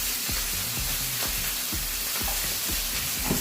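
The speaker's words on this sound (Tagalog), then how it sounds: "ilagay ko sa ating stir fry yung ating Baguio beans" Baguio beans stir-fry in a hot pan with a loud, continuous sizzle, broken by regular scraping strokes of a spatula tossing the beans every half second or so.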